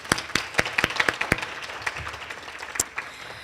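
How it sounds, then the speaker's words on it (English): Audience at a student excellence luncheon claps in appreciation for the lunch team; a few loud, distinct individual claps up front, thinning into scattered, fading applause from a modest crowd. "Can we give them a round of applause?"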